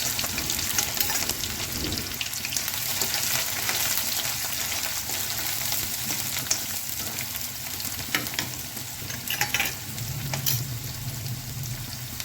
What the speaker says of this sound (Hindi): इसको हल्का सा कलर चेंज होने तक हमें फ्राई करना है